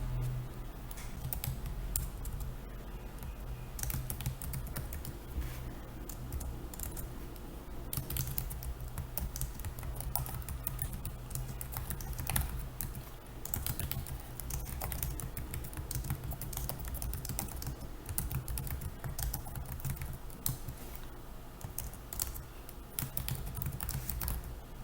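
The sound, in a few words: typing on a computer keyboard to write an email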